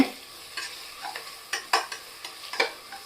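Onions being stirred as they fry for mutton biryani: a faint background sizzle broken by about ten scraping, clattering stirring strokes in an uneven rhythm, close by and with no talking.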